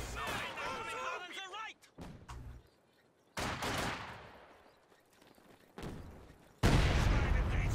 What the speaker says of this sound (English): he gets wiped on retreat by a mine